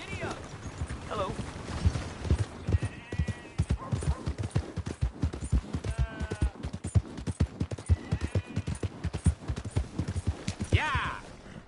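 Rapid clip-clop of horse hooves galloping in Red Dead Redemption 2, a steady fast rhythm throughout with occasional whinnies and a voice talking over it.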